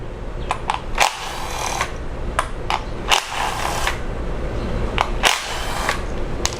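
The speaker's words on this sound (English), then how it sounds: "we can go ahead and remove the ignition coils now with a 10mm socket" Ratchet clicks and sharp metallic taps from a 10mm socket loosening ignition coil bolts on a Jeep Cherokee engine, several short bursts of clicking spread over a steady background hiss.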